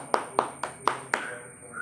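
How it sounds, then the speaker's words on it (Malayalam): A few separate hand claps from a small group at a Malayalam gathering honoring a young reader named Arnav, five sharp claps spaced evenly before a quiet tail. "അർണവിന് എല്ലാവരും ഒരു ക്ലാപ്പ് കൊടുക്കും."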